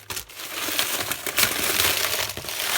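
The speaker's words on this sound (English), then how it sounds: "Here's the corn husks. And push them down." Dry corn husks for pork tamales pressed down into a pot, crackling and crinkling loudly and close with irregular crunchy bursts, no talking.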